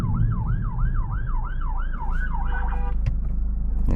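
A police vehicle's siren wails in a rapid, regular up-and-down cycle as it passes through busy road traffic. It sounds loud and close over a low engine rumble, then breaks off into short blips.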